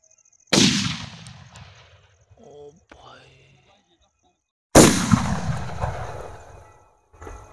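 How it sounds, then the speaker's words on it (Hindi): A Cock brand Blossom Skyshot Diwali firework bursts twice, each a sudden, loud, close bang with a long crackling rumble fading away, separated by a few seconds of near quiet. "ये था कोक का ब्लॉसम स्काई शॉट"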